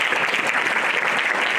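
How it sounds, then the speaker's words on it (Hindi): Children clap together at a school convocation ceremony, a dense, even burst of applause filling the hall for a moment. "लेकिन बच्चे अपने लिए ताली बजा लो एक बार।"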